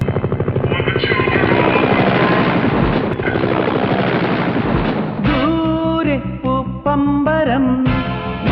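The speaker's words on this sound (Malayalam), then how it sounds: "ഹെലികോപ്റ്റർ അവിടെ ഇറങ്ങണം" A helicopter thunders nearby, its rotor chop loud and steady, then the engine tone shifts into a whining pulse toward the end.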